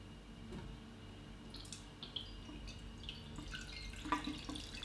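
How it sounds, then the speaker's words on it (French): Water drips and trickles into a rosemary hydrosol still as fresh water is topped up, a soft, steady patter of drops close by with no talk. "On rajoute de l'eau fraîche."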